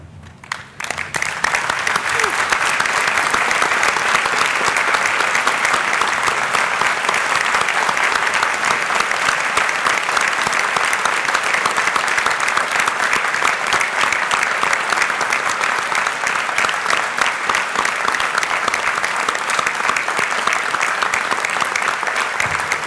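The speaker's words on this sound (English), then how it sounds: "join me in applauding the wonderful achievements of our graduates." A packed hall at a University of Newcastle graduation ceremony gives the graduates a standing ovation, dense, loud, sustained clapping that starts abruptly and holds steady for over twenty seconds.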